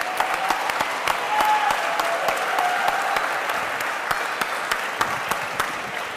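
An audience at a talk on entrepreneurship applauds steadily as a guest comes up on stage, a dense, sustained clapping with a few louder individual claps standing out.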